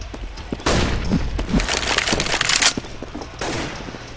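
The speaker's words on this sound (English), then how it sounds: "I'm throwing a flashbang." Flashbang grenade thrown in a multiplayer video game match, a sharp burst followed by a loud, bright ringing hiss that lingers, with another loud burst shortly after.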